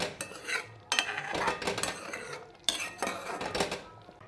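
Pithla, a thick gram-flour batter, being stirred in a metal pot, with repeated scraping and clattering strokes in bursts, fairly close and clear with no talk.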